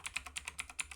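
Quick, steady keystrokes on a computer keyboard, about ten light clicks in a second, close but faint with no voices.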